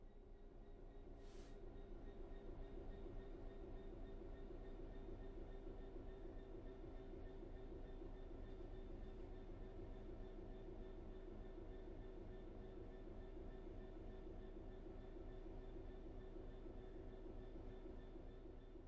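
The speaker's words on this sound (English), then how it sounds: "The train will then coast on level ground, and the train will only slow down very gradually." A train in a train simulator game coasts on level ground, giving a steady low rumble and rolling hum that stays even throughout, with no talk.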